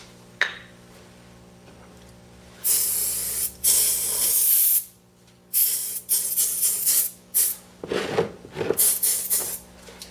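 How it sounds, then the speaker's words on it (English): Mold release sprays onto a casting mold for Alumilite resin blanks in several short hissing bursts of varying length separated by quiet gaps, close and fairly loud, with no talk. "I'm going to coat the mold with a mold release"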